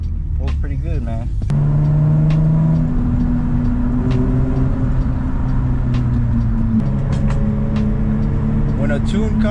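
A Nissan G35/350Z fitted with a 75mm throttle body accelerates hard, its engine note climbing in stepped pulls through the revs, loud and close, with a short sharp pop early on.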